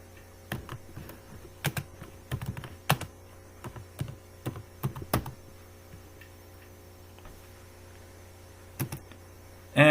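Someone types code on a computer keyboard in short irregular bursts of clicking keys, with pauses between runs, over a faint steady hum.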